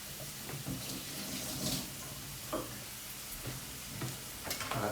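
Kitchen tap water running steadily while green beans are rinsed, a close continuous hiss and splash with occasional knocks of beans and hands against the sink, and no talking.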